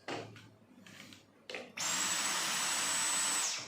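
A few short bursts of motor noise, then a Dyson cordless vacuum (V6 or V10 model) starts up and runs steadily with a high-pitched whine before cutting off.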